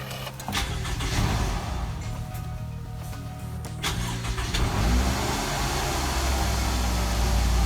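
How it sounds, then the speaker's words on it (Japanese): A 2010 Toyota Alphard's 2AZ-FE engine, just after its throttle valve was cleaned, cranks and catches, rising into a steady, fairly loud running rumble heard close up inside the car. "まずエンジンが、かかるかどうかというのはちょっと"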